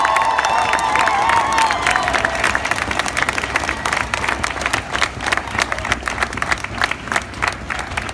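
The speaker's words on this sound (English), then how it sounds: "Can we go ahead and give a round of applause" Loud crowd applause at a March for Our Lives rally, with sustained clapping and some cheering, fading slightly as it goes on.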